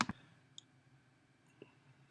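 A few sharp computer mouse clicks at a desk while uploading files to a server, one loud double click at the start and two fainter single clicks later, alone in a quiet room.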